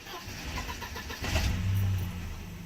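Natural-gas-converted Mercedes 190E 2.0 engine, idling rough before a brief surge in revs and then settling again, close and fairly quiet, with no talking.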